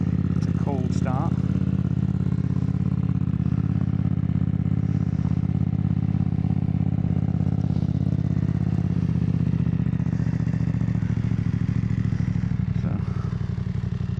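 A BMW F900R motorcycle fitted with a Mivv GP Pro exhaust idles loud and close after a cold start, a steady rumbling burble throughout, with someone talking briefly at the start.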